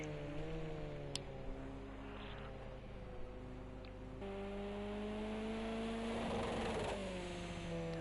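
Race car engine bouncing off the rev limiter during an X-Series endurance round in the USA, a steady high-pitched drone with shifting harmonics that swells louder as the car sweeps past the camera, with no talk.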